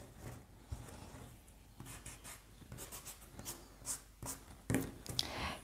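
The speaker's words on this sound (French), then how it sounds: "je vais repasser avec la gomme mie de pain" A kneaded eraser is rubbed over a pencil sketch of a tulip drawn for a watercolour, giving soft, faint scratchy strokes with a few brighter swipes, close up in a quiet room.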